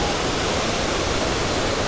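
A waterfall in Chiang Mai with deep, fast-flowing water over black rocks, heard as a dense, loud, continuous rushing roar without pause.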